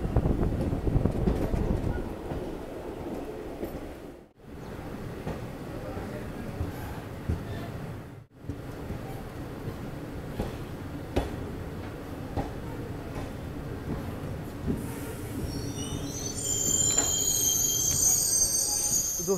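A train pulls into Dera Baba Nanak station near the Pakistan border, rumbling steadily with rail clatter, and a high wheel squeal rises toward the end; a voice is faintly present.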